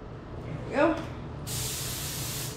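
A small paint sprayer applying a finishing coat to an old wooden dough box starts a loud, steady hiss partway through and runs on close and constant, after a brief voice at the start.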